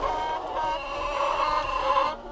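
Laying hens in a henhouse clucking in a steady, busy murmur at moderate loudness, several birds overlapping, with no talking.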